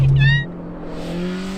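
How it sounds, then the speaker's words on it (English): A Mazda Miata drives at Swing Arm City with a steady engine drone and a brief higher whine at the start, heard close and at moderate loudness. "It was epic being able to take the Miata on some of the same features as him."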